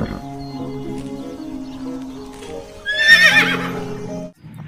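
A toy horse plays a loud recorded neigh with a whinnying squeal near its end, alongside steady electronic tones and a faint clip-clop, close and with no voices.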